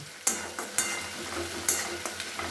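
Soya chunks frying with onion, ginger and garlic paste in a pan, a loud close sizzle broken by several sharp scraping stirs in an uneven rhythm, with no talking.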